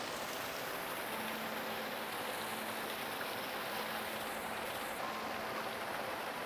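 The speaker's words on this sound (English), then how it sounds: "Got a great little waterfall here." A small waterfall in a forest gives a steady, dense hiss of rushing water that stays even and continuous throughout, with no voices over it.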